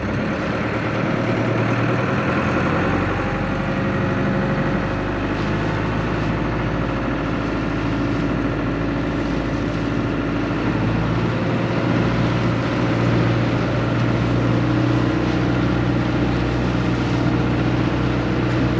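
The big engines of an Astral 105 boat run continuously, a deep, steady idling rumble with low throbbing tones, loud and close throughout with no voices.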